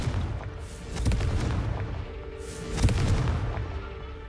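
A Confringo fire-blast spell cast in Hogwarts Legacy, heard as a pair of booming bursts about a second and a half apart, each a deep thump with crackling spread over a dense, rumbling game soundscape.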